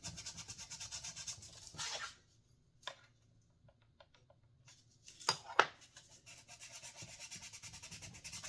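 Fret ends on a Fender Player Jazz Bass being sanded, faint close rubbing strokes in short bursts separated by near-silent pauses with a few small taps.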